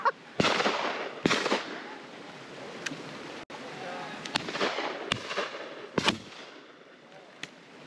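Shotgun shots at a pheasant shoot on Exmoor ring out as sharp, loud cracks, about eight spread unevenly across the stretch, some near and some farther off, with brief voices and outdoor noise between them.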